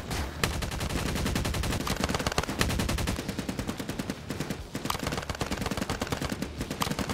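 Sustained machine gun fire in a video game, with rapid, loud bursts of automatic shots rattling continuously and densely throughout.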